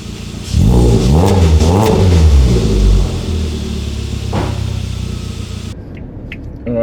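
A Suzuki Jimny fitted with a 2.5 inch exhaust and extractors revs hard, rising and falling in several quick blips before settling into a rumbling idle, loud and close.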